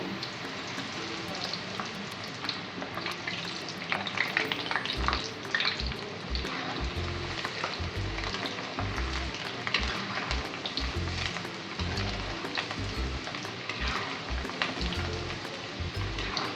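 Potato french fries sizzle steadily in hot oil during their first fry, a continuous crackling hiss with small irregular pops throughout.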